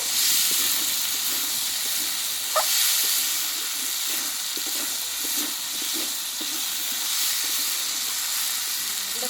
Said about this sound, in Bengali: আমি এই মটর আলুটা আমি কিছুক্ষণ কষিয়ে নেবো